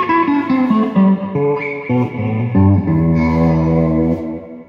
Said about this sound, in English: That's what an echoplex is going to sound like when you put it on that infinite repeat.